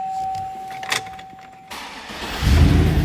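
A 2005 Chevrolet SSR is started up: a brief starter crank, then the engine catches near the end into a loud, full idle rumble, with no talking.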